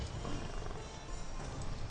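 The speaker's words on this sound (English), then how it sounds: "That's a kitty. Actually, it's a snow lion." A snow lion in the ArcheAge video game gives a faint, breathy roar lasting a couple of seconds, heard alone with no talking.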